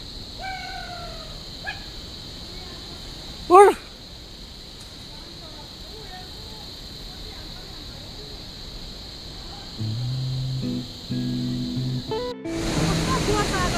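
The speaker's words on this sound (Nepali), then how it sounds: "पानीको फोर्स" Forceful rushing water roars steadily from start to finish, a dense continuous wash with a brief sharp burst early on, while voices break in now and then.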